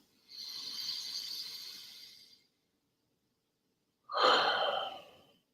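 Deep breathing during EFT tapping: a long, soft inhale, a silent pause, then a sharper, louder exhale, heard up close with nothing else around.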